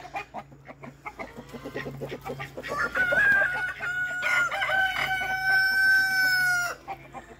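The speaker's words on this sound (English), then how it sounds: "it looks like we got some roosters fighting this morning" Roosters fighting on a farm, with clucking and agitated squawks building to a loud, sustained crow that rings out close by; a duck is among them.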